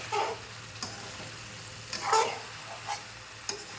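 Sugar syrup with almonds bubbles in a pan, a quiet simmer broken by several soft stirring scrapes and small clinks at irregular intervals.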